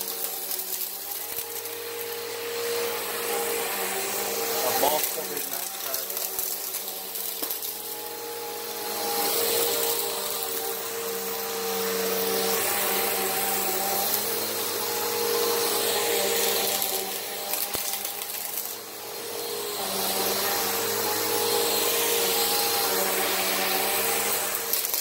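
A Bissell vacuum cleaner draws sand out of a carpet in a continuous loud, close motor roar, with gritty rattling as sand enters the dirt bin and slight swells in pitch as the head moves.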